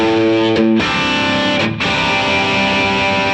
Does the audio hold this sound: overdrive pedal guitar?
yes